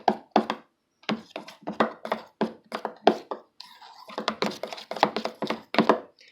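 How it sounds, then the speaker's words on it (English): A spoon scrapes and taps repeatedly in a bowl while shaving cream and glue are stirred together for fluffy slime, in close, steady rhythmic strokes with brief pauses. "So we're going to mix in your shaving cream and your glue."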